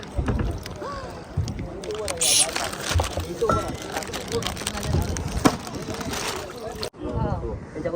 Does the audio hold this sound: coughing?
no